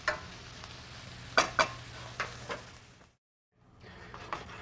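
Onions cooking in a pan over high heat give a steady sizzle with scraping stirs and a few sharp utensil clicks, then a brief drop to silence before the frying resumes.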